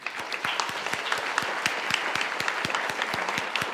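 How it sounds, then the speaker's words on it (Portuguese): Church congregation applauding during a worship service, a steady wash of clapping with sharp individual claps standing out, sustained throughout at moderate loudness. "Um aplauso para o Senhor."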